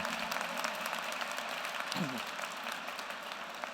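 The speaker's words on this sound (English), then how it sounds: "They deserve a big round of applause," A commencement audience at Yeshiva University applauds the graduates' parents, a dense, sustained round of clapping filling the hall, with a brief voice or crowd murmur rising partway through.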